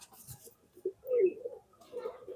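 Pigeons coo softly in Rishab Bhai's loft, a few low murmuring calls rising and falling over about two seconds, fairly quiet and close with faint background noise.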